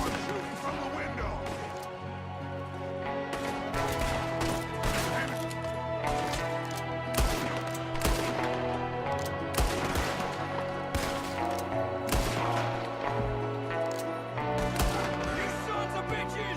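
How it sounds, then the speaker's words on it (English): Gunfire from an ambush in Red Dead Redemption 2, rapid sharp gunshots cracking one after another over a sustained music bed, loud and close. "There's another one shooting from the window!"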